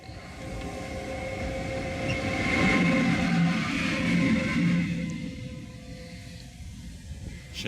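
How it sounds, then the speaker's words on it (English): A train runs along railway tracks on a refugee journey toward the Serbian border, giving a loud continuous rumble with rhythmic wheel clatter and faint squeal that swells mid-stretch, then eases off. "شايفه حلو القطار؟"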